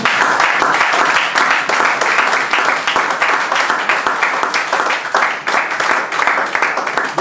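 A church congregation claps and cheers for the Lord, steady dense applause filling the room throughout with no break.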